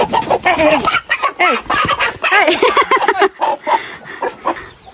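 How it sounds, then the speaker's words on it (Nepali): Village roosters kept at a rural family home cluck and squawk together in a busy, overlapping chorus, with one partial crow among them. The birds are close and loud and keep going continuously, with no talking. "हाम्रो मावलाको भालेहरू चाहिँ यहाँ छ साथीहरु यसरी"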